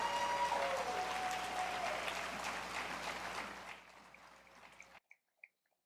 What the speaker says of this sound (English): Award winners another round of applause.